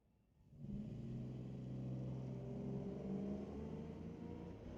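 A 2007 Silverado Supersport and a third-generation Firebird launch side by side in drag racing at Mission Raceway Park, rising from quiet into a loud, sustained engine roar with a deep rumbling drone.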